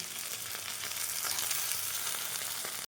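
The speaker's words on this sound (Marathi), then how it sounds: "मी टमाटर घालून घेते आणि ते पण छान फ्राय करून घेते" Tomatoes frying in a pan with browned onions and ginger for a village-style drumstick and pea curry masala, a loud, dense, close hiss of sizzling oil that holds steady, then cuts off abruptly.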